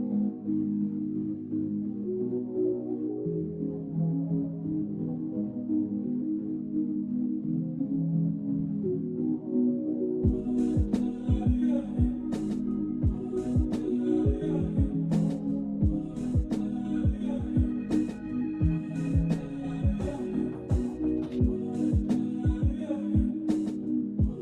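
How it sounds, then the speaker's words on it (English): Trap beat built in FL Studio with a percussion loop: a soft, low pad opens alone, then punchy kicks and a ticking hi-hat loop join about midway, all fairly quiet. "the final product sounds like this."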